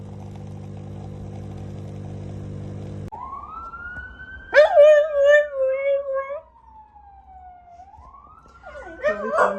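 A siren wails in long rising and falling sweeps, starting after a steady low hum and staying fairly loud throughout.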